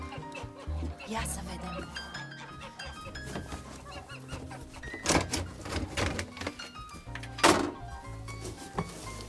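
Domestic geese and chickens cluck and cackle in a farmyard during feeding, with scattered bursts of calls, a few thunks and a voice speaking intermittently nearby.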